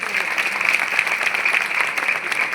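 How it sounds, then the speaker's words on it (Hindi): Audience applause for lecturers and teachers at a public event in Shivpuri, a dense steady wash of many hands clapping together, moderately loud and continuous for the whole stretch. "अब उनके लिए भी एक बात ताली बजाओ"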